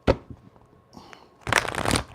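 Tarot cards being shuffled during a reading: a sharp riffle at the start, a few soft taps, then a longer burst of rapid card shuffling, close and clear without speech.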